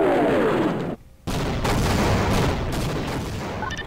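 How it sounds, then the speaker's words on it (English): Air strike barrage in the Half-Life Source video game: dense, loud gunfire and explosive booms rolling continuously, broken by a brief near-silent gap before the blasts resume. "we are pulling out and commencing airstrikes"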